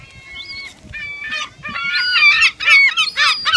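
Seagulls flock for food at the Auckland Harbour, a cluster of loud, close, overlapping squawks building into a noisy chorus.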